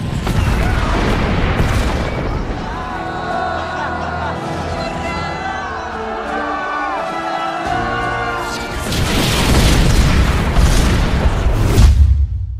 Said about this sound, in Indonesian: roket Katyusha pun mulai diluncurkan dengan target koordinat markas pasukan Jerman, hingga serangan itu berhasil memporak-porandakan markas tersebut